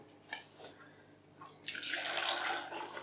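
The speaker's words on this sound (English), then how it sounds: "I'm just going to clean out the pan" Water runs from a tap into a saucepan at a kitchen sink, close and moderately loud, starting with a few splashes and clinks, then building into a steady rushing stream, with no talking.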